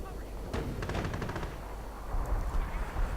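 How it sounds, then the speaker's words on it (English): Artillery and gunfire rumble across a battlefield in a 1v1 match of a World War strategy video game, with a rapid cluster of sharp reports early on over a steady low rumble, continuing more sparsely afterward. "And artillery going on towards here again"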